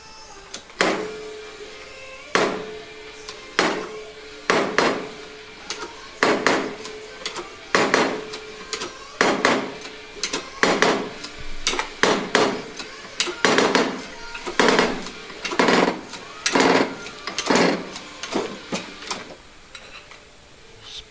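A hydraulic puller forcing a stuck part off gives repeated loud, sharp cracks like pistol shots, spaced irregularly and coming faster toward the end, with a quiet mechanical hum between them.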